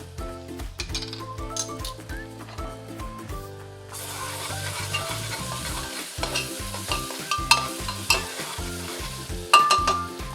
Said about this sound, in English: As the onions are getting sauteed, add a little bit of ginger and a little bit of garlic paste.